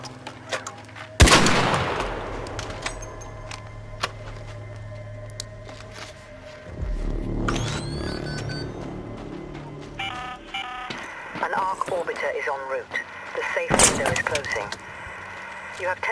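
Gunfire in the video game Arc Raiders, a few sharp cracking shots spaced several seconds apart with some rumbling game effects between them, while a player talks throughout.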